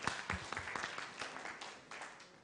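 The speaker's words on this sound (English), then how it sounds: "Let's give her a big round of applause" Audience at a broadband forum in Ghana gives a round of applause, scattered uneven claps at moderate distance that thin out over a couple of seconds.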